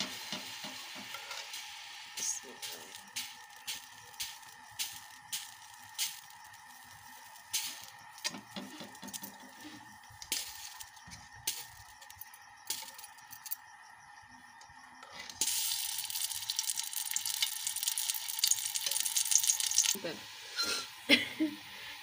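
Ghee heats in a pan on a stove, giving a faint hiss and crackle beneath a voice that speaks throughout, with scraping stirs and a louder sizzle swelling toward the end.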